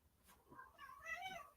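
A cat meows indoors, giving one short, soft, rising-then-falling cry with no talk over it.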